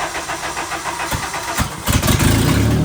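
A race car with a 2.0 5R engine cranks over, then fires and catches, settling into a loud, rough, close idle over a few seconds.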